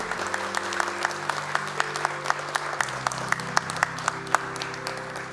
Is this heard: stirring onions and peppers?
no